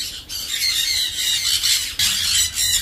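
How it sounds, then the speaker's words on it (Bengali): Sun conure parrots at a bird market in Haldia squawk loudly and repeatedly at close range, sharp piercing calls overlapping in dense bursts with hardly any gaps. "খুব সুন্দর কোয়ালিটির সানকুনুর রয়েছে।"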